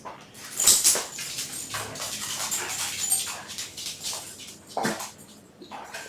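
A dog gives a few scattered soft woofs and whimpers indoors, short bursts separated by quiet gaps, with no speech.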